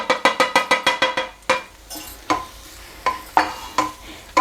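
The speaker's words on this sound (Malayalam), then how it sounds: "എല്ലാം കൂടി ചേർത്തിട്ട് ആ പൊടികളുടെ പച്ചമണമൊക്കെ മാറുന്നത് വരെ നന്നായിട്ട് വഴറ്റി കൊടുക്കാം" Curry with turmeric, garam masala and other spice powders is sautéed in a pan: a quick run of sharp metallic spoon taps opens, then slower scattered scrapes and clinks over a faint sizzle.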